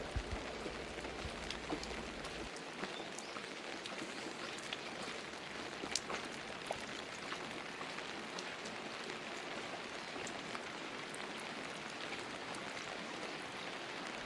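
Constant light rain patters and hisses outdoors at a valley campground parking lot in Gapyeong, an even wash of sound throughout with no talking.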